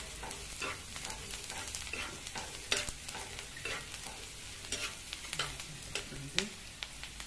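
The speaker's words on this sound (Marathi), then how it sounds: "आता 1 ते 2 मिनिटे चांगलं परतून घ्यायचं आहे" Besan jhunka stir-fried in a pan, busy crackling sizzle with repeated quick spatula scrapes and clatters in an irregular rhythm, close and fairly soft, with no talk.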